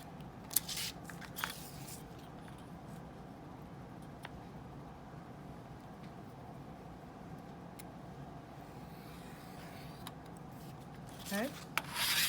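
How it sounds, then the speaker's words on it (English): The edge is trimmed off a sheet for a line study grid, heard as close, soft rubbing and scraping cutting strokes with scattered sharp clicks, and a louder burst near the end. No voices. "it's okay to cut the edge of this little piece off."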